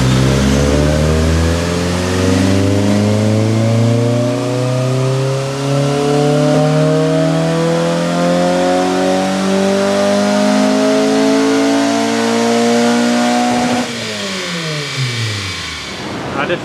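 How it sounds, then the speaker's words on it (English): A K24a2-swapped Honda EP3 revs hard toward redline, its exhaust note climbing steadily for about fourteen seconds with rising harmonics, then dropping sharply as the throttle closes and the engine falls back. The sound is loud, continuous, and heard from a short distance away. "So I'm going to get an exhaust sound clip from further back."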